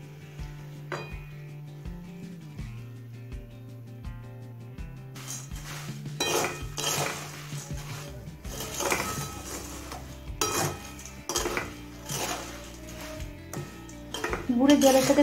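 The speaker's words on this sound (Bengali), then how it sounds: "গুড়ের জলের সাথে খইটা মিশিয়ে নিলাম" Puffed rice being mixed with jaggery water in a pot for Joynagar moya, with clinking and scraping of utensils against the pot in irregular bursts, louder in the second half, over a low steady hum early on.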